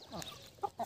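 Desi chickens clucking on a pure desi poultry farm that keeps Aseel and Kadaknath breeds, with a few short close clucks coming near the end of a brief quiet stretch.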